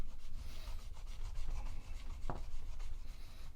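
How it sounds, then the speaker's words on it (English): A very sharp knife makes a taper cut on Dyneema synthetic winch rope, producing quiet, close, rasping and rubbing strokes. One brief sharper snick comes near the end, with no speech. "at the very end we do a bit of a taper cut with our very sharp knife"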